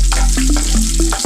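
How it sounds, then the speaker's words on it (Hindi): Green chillies and curry leaves frying in a pan while being stirred, giving a loud, close sizzle with a few distinct scraping strokes over a brief moment and no speech. "और इसमें हम हरी मिर्च डाल देते हैं और डाल के इसको हम चला देते हैं अच्छे से"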